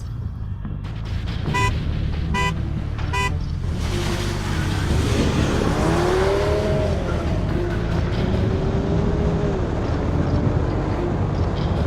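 A Volkswagen Golf GTI DSG and a Golf GTD DSG accelerate hard side by side in a drag race, engines roaring and rising in pitch through gear changes, with a few short horn-like toots near the start.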